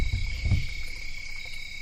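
Steady high cricket chirping runs through the whole stretch as a constant shrill trill, with a couple of low thumps near the start and no talking.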